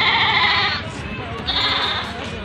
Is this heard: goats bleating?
yes